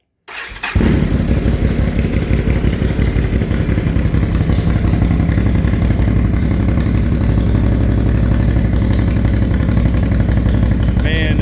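A 2014 Can-Am Renegade 800R ATV engine fires up and settles into a loud, steady, throaty run through a rumbling aftermarket exhaust, close and continuous.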